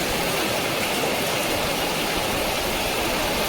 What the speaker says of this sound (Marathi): मित्रांनो, लय जोरात ना पाऊस लागता, तुमका दाखवत आहे.